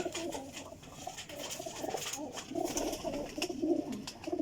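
Golden and other high-quality flying pigeons coo steadily at a breeder's loft, overlapping soft throaty calls repeating close by without pause over a continuous murmur of the flock.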